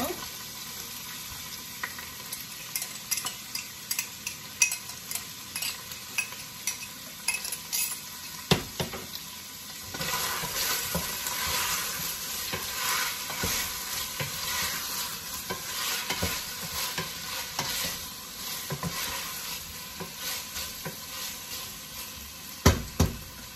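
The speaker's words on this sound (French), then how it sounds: "Je vais rajouter mes oignons." Onions sizzle and fry in a pan for a mushroom okra sauce, with steady crackling and repeated scrapes and clinks of a spoon stirring against the pot, close by.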